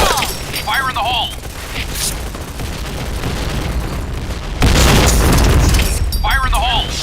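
A grenade explosion in a shooter video game, a loud broadband boom bursting in partway through and ringing out over busy game noise, with voices talking over the action.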